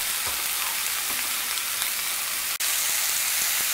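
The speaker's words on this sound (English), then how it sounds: "Hear that sizzle?" Loud, steady sizzling of steak frying in a 12-inch cast iron skillet over medium heat, a continuous crackling hiss with no talking.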